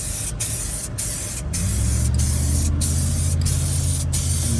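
SEM Color Code aerosol paint sprays onto a leather seat of an Infiniti QX60 in a series of short bursts with brief pauses, then a steadier hiss alongside a low hum, close and loud.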